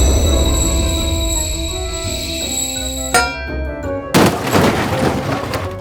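Toy Thomas train trucks brake with a sustained high metallic squeal, followed by two sharp clattering crashes as the wagons jolt and collide.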